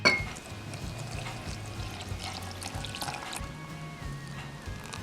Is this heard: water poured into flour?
yes